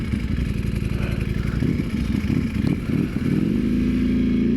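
Superbike motorcycle being ridden, engine loud and close with a steady throbbing note that rises in pitch as it accelerates near the end, with some mechanical clatter.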